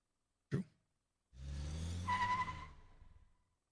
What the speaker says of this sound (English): The piercing sound of brakes cut through.